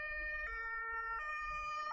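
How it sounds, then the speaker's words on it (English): Emergency sirens wail at street protests with a loud, steady two-tone pattern that shifts pitch roughly every three quarters of a second over a low background rumble. "Listen to those sirens."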